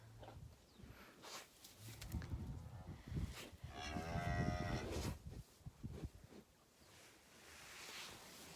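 Cattle moo nearby, one long drawn-out low call standing out amid shuffling and rustling around the animals.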